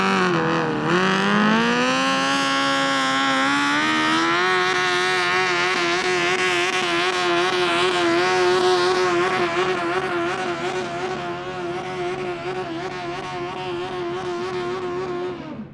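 A tractor engine roars continuously at a tractor pulling competition in Väse, its pitch climbing early and then holding as a loud, sustained drone that fades slightly toward the end.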